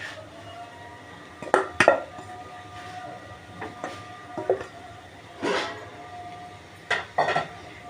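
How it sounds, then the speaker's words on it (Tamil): Mashed potatoes are stirred into fried masala in a pan, with a spatula giving irregular clanks and scrapes against the metal, some close and sharp, separated by quiet gaps. "சேர்த்து இதை நல்லா மிக்ஸ் பண்ணிவிடுங்க"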